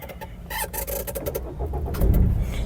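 A 2015 Maruti Ertiga VDi diesel engine cranks and catches on the first try, with sharp transient clatter giving way to a steady low rumble that swells near the end, close and fairly loud.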